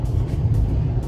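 Steady low interior rumble of a car driving on a highway, loud and continuous road and engine drone with no speech.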